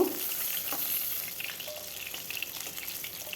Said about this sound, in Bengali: বাকি মাছগুলোও আমি এভাবে ভেজে নেব